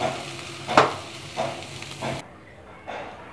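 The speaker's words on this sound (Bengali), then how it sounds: "আর একটু নেড়ে দিব।" Pumpkin and Malabar spinach curry is stirred in a hot pan, with soft scraping strokes and gentle sizzling coming in a few separate bursts, close and fairly quiet.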